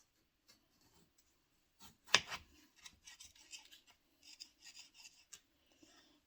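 A knife slices a sprouted Irish seed potato in two, giving one sharp crunching cut followed by faint scraping and rubbing of the halves, close and quiet with no talking.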